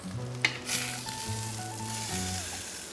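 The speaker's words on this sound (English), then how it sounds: "the steak's been in the pan for a couple minutes now" Steak searing in a hot pan, a loud continuous sizzle close by with a brief sharp clink near the start and faint background music tones.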